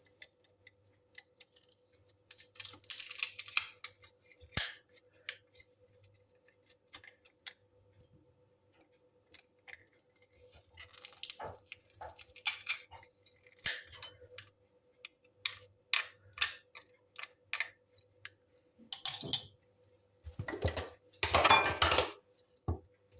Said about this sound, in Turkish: Şöyle iki diş sarımsağı üzerine doğruyorum.